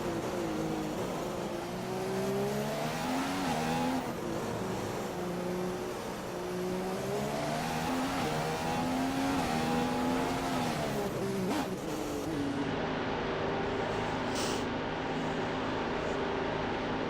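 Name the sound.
F1 car engine in the F1 2015 video game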